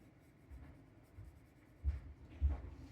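Watercolor pencil scratches softly across paper while drawing a bird design, quiet scraping strokes with a couple of louder, firmer marks near the end.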